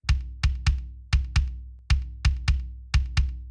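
Punchy layered kick drum hits, including a Ludwig kick sample, with a deep low thump and sharp attack, played alone in an uneven rhythmic pattern of about ten strikes.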